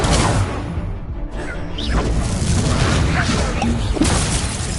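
An Incendio fire spell cast in a Harry Potter video game gives a loud, continuous roaring whoosh of flame with crackling bursts, dense and sustained throughout.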